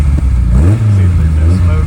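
A 1977 Ford Escort MK2 RS2000 with a 2.0L Pinto engine blips its exhaust in one loud, close rise in revs that then holds a throaty rumble, with a voice mixed in.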